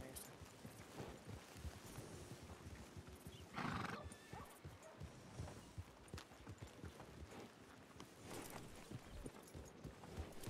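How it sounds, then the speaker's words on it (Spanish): Horses on a ranch whinny and neigh amid steady clip-clop of hooves, moderately near, with a loud neigh standing out midway and faint voices in the background. "Paren los caballos aquí"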